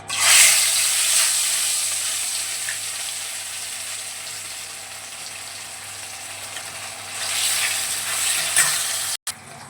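Fish fries in hot oil in a wok with a steady sizzling hiss. It is loudest at the start, eases off, then swells again near the end, with a brief clunk just before it stops.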